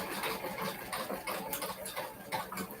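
Sewing machine back-stitching upholstery material on a vintage sewing desk, a quick run of soft ticking stitch beats at close range, fairly quiet and with no voices.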